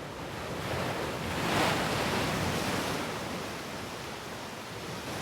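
Ocean surf pounding on the rocky Hong Kong coastline: a continuous roaring wash of waves that swells briefly louder, then settles into a steady, dense rush with no voices.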